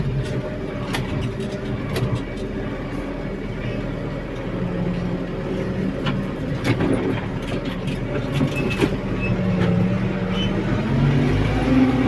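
A tractor engine rumbles steadily and close while loosening soil after soybeans, a low continuous drone with faint rattles over twelve seconds.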